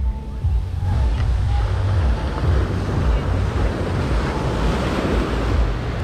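Surf on a beach in Bali rolls in steadily under heavy wind buffeting the microphone, a loud continuous wash with no talk.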